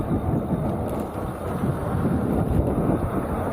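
Steady rushing wind noise buffets the microphone throughout a ride on a custom 72-volt Kepler electric scooter, with a low rumbling roar and slight swells in loudness.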